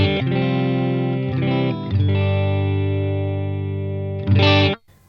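Electric guitar played through a Line 6 POD GO on its Deluxe Reverb clean amp model rings out in sustained chords with a shimmering, effected tone, ending on a brighter strum that cuts off abruptly.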